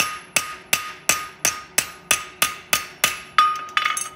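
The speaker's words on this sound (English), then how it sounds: "you toe all the way to the heel, flat, just box it off slightly with your hammer" A hammer strikes a steel horseshoe while boxing off the heel, about a dozen sharp ringing metallic blows in a steady, even rhythm, close and clear with no talk.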